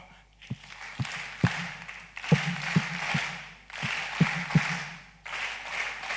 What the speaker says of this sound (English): let's hear our special clap